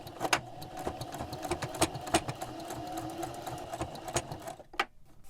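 A sewing machine top-stitches an apron hem with an uneven mechanical hum, punctuated by sharp clicks and taps as fabric is handled, fairly quiet and without speech.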